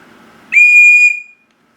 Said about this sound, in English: Just wanted to show you it's a very loud whistle.